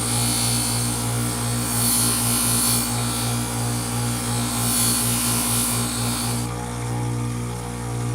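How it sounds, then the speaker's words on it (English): A Scotch-Brite wheel on a power tool cleaning acid-washed stone gives a loud, steady abrasive whir and scrub, rising and falling slightly as it works the surface, then easing near the end. "this little Scotch-Brite wheel right here, which has been a lifesaver"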